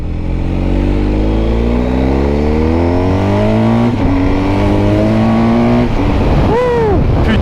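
A BMW 1250 GS motorcycle accelerates hard, its loud engine rising in pitch through a gear change, then climbing again before easing off, with a voice briefly exclaiming near the end.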